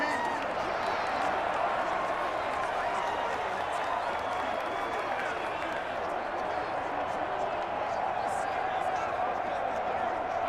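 A stadium crowd at an NFL game in Madden 21 swells into a steady, even roar ahead of a big third down, with a commentator's voice over the top.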